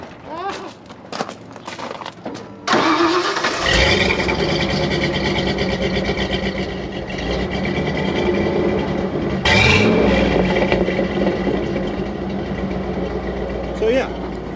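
Ford F-150 4x4 engine with a new side-exit exhaust starts up and settles into a steady, loud idle with a low rumble, a few sharp revs around the middle and end.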